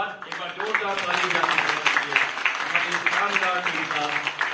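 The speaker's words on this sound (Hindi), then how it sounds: "एक बार जोरदार ताली" An audience at a school event claps for a theatre team, sustained applause that carries under someone speaking loudly over a microphone.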